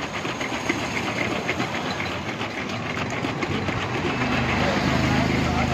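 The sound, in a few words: shaking a bottle of Vestige Neno energizer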